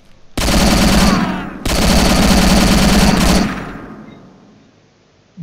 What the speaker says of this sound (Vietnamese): Nghe súng dã man thật.